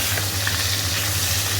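Fish frying in hot oil gives a dense, continuous close-up sizzle, steady and hissing with no pauses.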